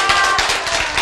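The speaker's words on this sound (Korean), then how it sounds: "자, 이럴 때 이제 박수 쳐야지." A classroom audience claps briefly during a lesson on genes, a quick run of a few close hand claps lasting about a second.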